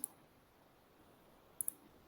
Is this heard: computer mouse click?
yes